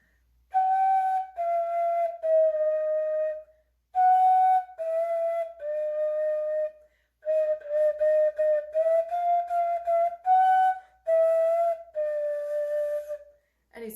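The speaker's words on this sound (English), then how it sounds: "you can actually play a song on your head joint" A flute head joint played alone, piping the short mi-re-do phrases of Hot Cross Buns as clear whistly tones in repeated groups of three with brief breath gaps between them.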